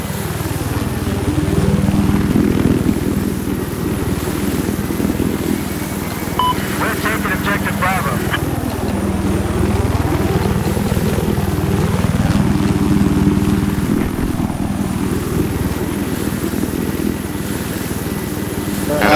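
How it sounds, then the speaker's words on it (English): An enemy helicopter in the video game Battlefield 4, on the Paracel Storm conquest map, drones with a steady rotor and engine hum whose pitch sweeps up and down throughout, mostly under ongoing voice chat. "I got eyes on an enemy helicopter."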